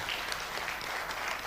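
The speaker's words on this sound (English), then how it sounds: "give applause to Professor Adi Wijaya once again" Conference audience at an international Islamic studies event applauding a keynote professor, a short, steady burst of dense clapping filling the room at constant level.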